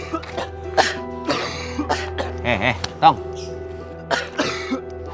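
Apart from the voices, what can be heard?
coughing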